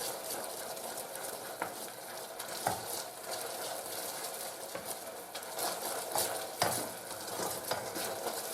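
Cake batter for a pineapple cake stirred in a pot with water: a soft, continuous scraping and swishing, faint and close, steady throughout with a few light knocks of the spoon.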